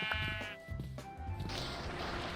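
Sheep bleating in the Minecraft video game: a couple of short, nasal bleats stand out over a busy game soundscape of low rumbling and other effects.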